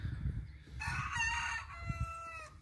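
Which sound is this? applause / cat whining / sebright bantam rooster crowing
sebright bantam rooster crowing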